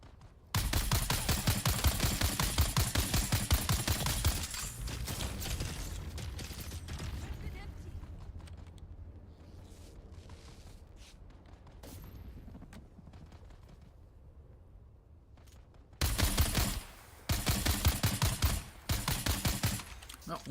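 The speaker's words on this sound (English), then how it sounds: "I hear gunfire everywhere." Gunfire in the video game Dune: Awakening, dense bursts of rapid shots at the start and again near the end, with quieter scattered shots and rumble in between.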